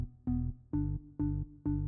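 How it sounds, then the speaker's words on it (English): Repeating M1 organ pattern in FL Studio, four evenly spaced chord stabs with a short reverb tail between each, steady and clean with no voices. "So I've used an M1 organ pattern, just sounds like this."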